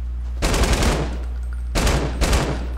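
Automatic weapon fire in the game Fortnite: two loud, close bursts of rapid shots, the first lasting about a second, then a pause, then a second burst broken into two parts, with no voices.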